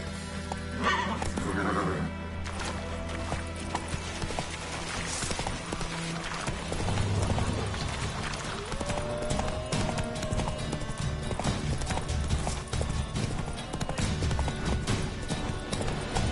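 Roach, Geralt's horse in The Witcher 3, gallops with continuous rapid hoofbeats, a whinny or two early on, game sounds and faint voices layered over the steady drumming.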